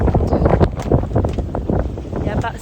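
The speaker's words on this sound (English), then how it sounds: "It's a little bit gusty." Gusty wind of about 16 to 20 knots buffets a sailboat, rushing and thumping irregularly across the microphone in bursts, with water and hull noise underneath and a voice briefly audible.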